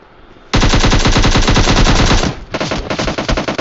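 Rapid gunfire from a pistol in the mobile video game PUBG Mobile: a loud, dense burst of shots that starts abruptly, breaks off briefly, then resumes with more shots to the end.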